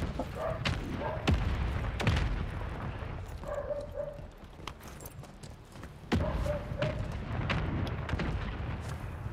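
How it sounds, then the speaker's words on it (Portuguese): Gunshots in the video game Call of Duty, several sharp booming reports spaced irregularly, loud and close, with in-game ambience between them. "tiro meu"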